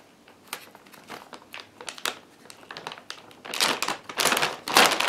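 Someone handles and tears open a Ziploc bag from a 72-hour survival food kit, producing close, irregular crinkling and plastic rustling that grows louder and denser toward the end.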